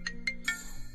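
A phone rings with an incoming call: three short, clipped electronic ringtone chirps in quick succession, the last one ending in a sustained tone over a low background hum, with no one speaking.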